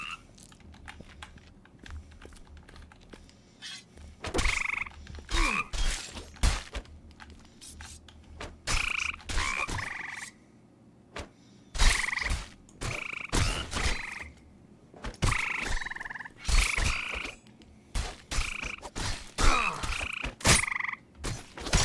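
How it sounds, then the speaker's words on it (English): Toads and frogs croak in a dungeon of the online game Embers Adrift, repeated throaty calls coming in clustered bursts with short gaps, loud and fairly close, with no talking over them. "You know what's interesting about the toads and frogs in this dungeon?"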